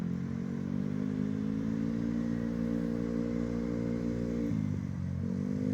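A scooter engine hums steadily at a distance as a beginner rider opens up the throttle in an open field, holding a constant drone with a brief dip and pitch change near the end.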